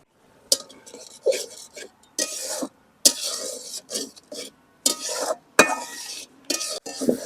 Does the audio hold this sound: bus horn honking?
no